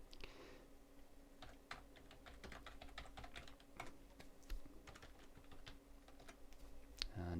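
Someone types a database record on a computer keyboard, a close, quiet run of irregular key clicks in short bursts, alone with no talk.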